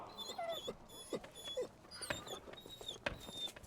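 Hungry dogs whimpering in the Sea of Thieves pirate game, a series of short, high, wavering whines and yips repeating close by, with faint background game ambience.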